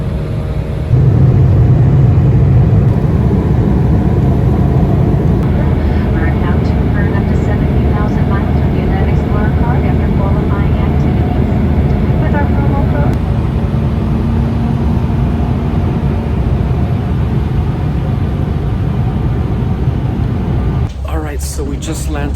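Steady, loud engine drone and broadband hiss fill an airplane cabin heard from a window seat, continuous throughout with no breaks and a brief shift near the end.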